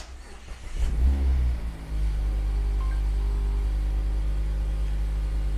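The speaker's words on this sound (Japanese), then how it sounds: "じゃあエンジンかけてみますね。" A Mazda Roadster 990S engine, hood open, cranks and catches with a brief rev, then settles into a steady, low rumbling idle close by.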